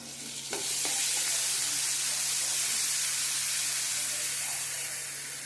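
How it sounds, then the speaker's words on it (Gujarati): Ginger, garlic and chili paste dropped into hot oil for a Gujarati frankie filling, a loud continuous sizzle and hiss that starts with a splatter and holds steady throughout. "હવે આદુ, લસણ, મરચાંની આપણે પેસ્ટ નાખીશું"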